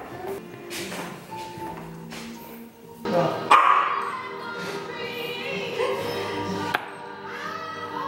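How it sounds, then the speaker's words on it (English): A dog barks a few times, sharp and close, with people talking in a home at the same time. "Michi's bark scares Patrick every time"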